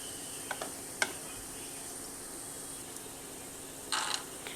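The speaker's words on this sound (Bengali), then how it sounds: "এবার এগুলো দেওয়ার পর আবার একটু ভাজা করে নিলাম" Potatoes, carrots, cumin and ginger frying in a pan, a quiet steady sizzle with a few faint clicks and a brief louder crackle toward the end.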